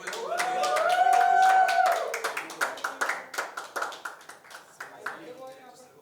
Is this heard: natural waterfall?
no